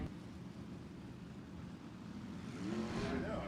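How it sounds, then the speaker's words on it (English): USAC midget race cars at Ventura Raceway refire after a push start during a caution, with engine noise building from a low rumble into a rising rev toward the end against distant track ambience. "just a couple of cars lack a push to refire here"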